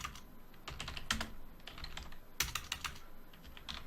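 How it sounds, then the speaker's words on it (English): A headline is typed on a computer keyboard: a close, quiet run of uneven key clicks, with two brief louder flurries and no voices. "So I'm just going to type it here."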